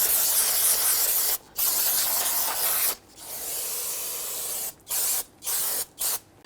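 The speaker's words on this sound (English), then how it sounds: "we're going to spray down our brake rotor here to get rid of some of this dirt and grease" Aerosol brake cleaner is sprayed onto the front brake rotor of a 2007-2014 Cadillac Escalade in a loud, close hiss, delivered as one long burst, then several shorter bursts in quick succession.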